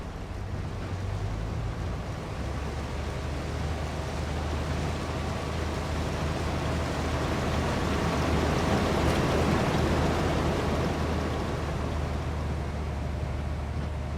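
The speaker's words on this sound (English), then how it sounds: "Love the noise of this tractor." A tractor engine in Farming Simulator 25, a steady low drone and hum under broad noisy rumble that holds constant and fairly loud, with no talk.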